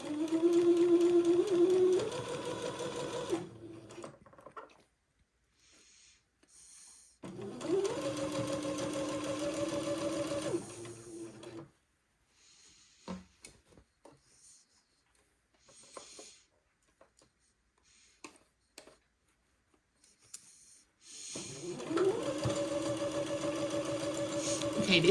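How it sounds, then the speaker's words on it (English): A sewing machine on a standard stitch runs in three loud, steady bursts, stitching a waistband onto gathered bloomers, with quieter handling noises in the gaps between runs. "Now I have changed my machine back to a standard stitch"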